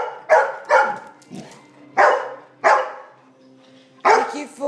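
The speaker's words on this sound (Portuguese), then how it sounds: "Por que que você tá latindo?" A dog barks in short, loud bursts, five sharp barks spaced irregularly with a faint whine between them, close by in a quiet home.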